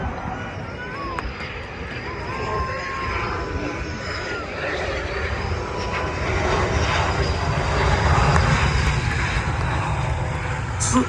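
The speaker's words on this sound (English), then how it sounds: "Number 5 is going to safely land his jet." A jet from an air show demonstration team comes in to land, its engine roar building steadily under crowd and announcer chatter, with the sound swelling louder toward the end.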